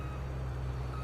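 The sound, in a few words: combine harvester reversing beeps in Farming Simulator 22 video game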